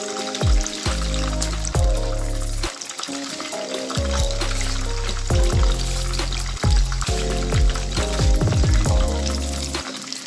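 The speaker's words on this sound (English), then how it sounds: "My water is ready now. I'll add my lasagna." Lasagna noodles going into a pot of boiling water for egg lasagna, with loud splashing and bubbling alongside scattered clinks and knocks from cookware, steady throughout.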